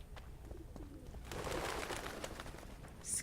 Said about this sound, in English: Scram pigeons.